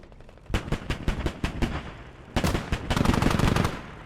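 A .50 cal machine gun firing in the video game Squad: two sharp bursts of rapid, evenly spaced shots, the first a slower string of single reports, the second a denser sustained volley, fairly close and loud.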